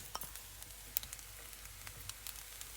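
Capsicum hitting a hot frying pan for fried rice, giving a quiet, steady sizzle broken by scattered small crackles and a few sharper pops.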